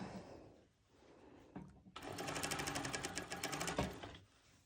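A sewing machine stitches thick fabric: a quiet pause, then a fast, rapid run of needle clatter lasting a couple of seconds, close and fairly faint.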